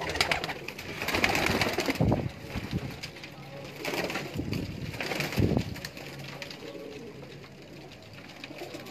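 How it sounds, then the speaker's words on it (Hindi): Pigeons at a breeder's loft near Delhi Gate in Lahore coo in a few low, throaty bursts, fairly close, over a faint background hum. "बहुत ही ब्रांड कबूतर"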